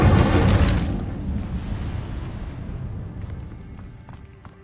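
An Incendio fire spell from a Hogwarts video game goes off in a loud, whooshing burst that then fades into a long, decaying rumble.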